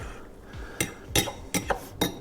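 Sauerkraut being stirred into chaffle batter, a utensil clinking against a bowl in several sharp, close taps with quiet scraping between them.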